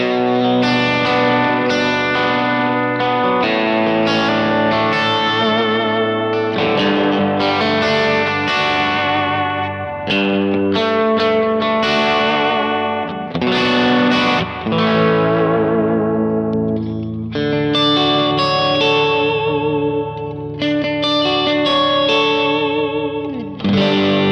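Electric guitar through a Kemper amp with its Soft Shaper effect, a soft, saturated overdrive, chords and riffs played continuously with a bright, slightly gritty edge and some chorus-like shimmer.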